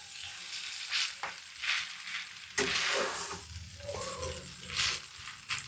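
Spaghetti cooking in a pan, with intermittent sizzling and stirring scrapes close by, several hissing bursts across the stretch.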